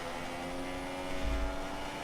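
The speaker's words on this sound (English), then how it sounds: "now I'm putting me engine mode into rich revs." Race car engine revving in the F1 2016 video game at the Mexico Grand Prix, a steady droning buzz with a sustained tone, moderately loud with no talking.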